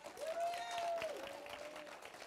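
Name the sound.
congregation hand clap praise in church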